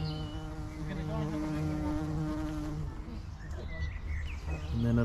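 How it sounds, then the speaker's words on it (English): A big bumblebee buzzes past close by in a forest garden among sorrel flowers, its droning hum rising and falling as it passes, with faint bird calls in the background. "And then another one buzzing past. Okay, there's a little one, so that first one was a big bumblebee"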